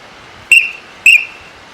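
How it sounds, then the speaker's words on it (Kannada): A police whistle gives two short, shrill blasts about half a second apart. Both are loud and close, over a low background hiss. "ಅವ ಮಂಜು ಪೊಲೀಸ ಇದನ್ನ ಎಲ್ಲಿಟ್ಟಾನ ಮರಿ ಸೀಟಿ."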